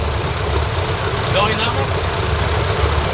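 A tractor engine idles with a steady, low rumble throughout at an agricultural show, close and constant, with faint voices mixed underneath.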